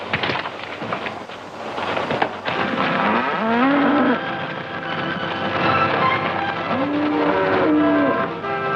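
Cattle mooing loudly and repeatedly, several long lowing calls close by on a railway track, with a steady rumbling train background beneath the animals.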